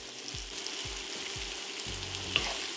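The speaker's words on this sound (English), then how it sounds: "add a tablespoon of vegetable oil. And then straight on add these vegetables, the carrots, the peppers, and the onions" Carrots, peppers and onions fry in vegetable oil with a loud, steady sizzle, a few soft knocks of stirring underneath, no voices.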